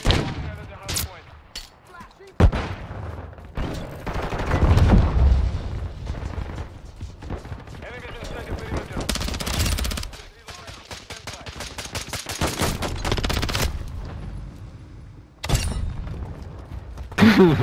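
Multiplayer gunfire in Call of Duty MW2 comes in repeated bursts of sharp shots and rapid automatic fire, fairly loud, while a player talks excitedly over the action.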